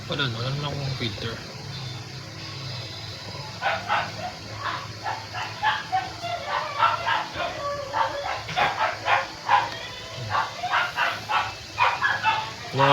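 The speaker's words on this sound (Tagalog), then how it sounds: "Yung aso ko yun si Princess." Princess, a pet dog, barks in repeated quick yips and bow-wows, close and fairly loud, with a voice talking before the barking starts.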